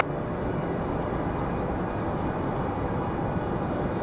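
An American airliner takes off from runway 5 left at Raleigh-Durham airport, a steady broadband jet roar heard from a distance without letting up.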